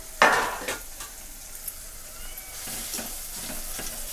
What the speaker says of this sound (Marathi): तर हे तेलात टमाटर मिक्स करून घेतले